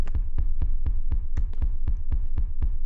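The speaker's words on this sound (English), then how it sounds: "This ain't footsteps, this is heartbeats." Steady heartbeat pulses in the Capuchin horror video game, about two beats every half second, loud and close with a low thumping body, regular rhythm over a faint hum, no talking.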